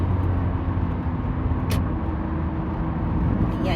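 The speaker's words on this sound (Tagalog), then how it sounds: "Mayroon akong nasundan ditong malaking truck." A large truck on the road ahead rumbles steadily amid dense, constant road and engine noise, with one brief sharp hiss partway through and no voices.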